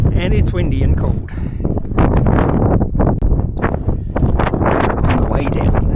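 Strong wind gusts buffet the microphone on a cold mountain summit hike near lakes, rumbling and roaring in uneven bursts while a person talks over it.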